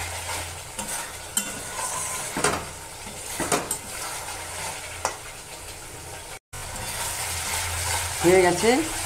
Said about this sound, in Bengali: এটা আমি দুটো মিলিয়ে একটু কষিয়ে নিলাম।